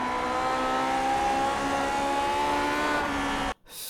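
A Lotus 49 Grand Prix car in the iRacing sim at Suzuka, its engine holding a loud, steady high-pitched drone with rising harmonics before a brief sudden dropout.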